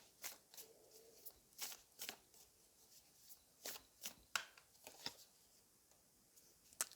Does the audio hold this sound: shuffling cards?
yes